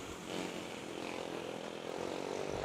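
An AirAsia airliner lands at Manila's NAIA airport, a steady distant engine roar that swells slightly toward the end.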